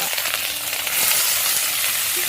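Banana stem goes into hot oil with dried chilli in a wok, setting off a loud, dense spattering sizzle that swells briefly and stays steady, with no talk.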